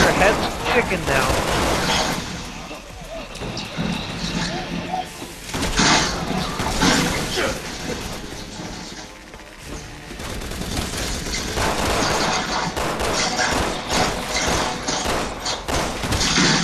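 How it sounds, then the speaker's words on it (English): Gunfire from the video game Resident Evil 6, in the Chris and Piers campaign, rings out in dense, loud, rapid bursts mixed with heavy thuds and crashes, continuing almost without pause throughout. "hearing my gunfire about 2 seconds after I've already pulled the trigger"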